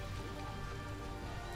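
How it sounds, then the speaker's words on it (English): Rain summoned by a spell in the role-playing game Divinity: Original Sin, a soft continuous hiss of falling drops, fairly quiet and steady with no talk over it. "You made it rain."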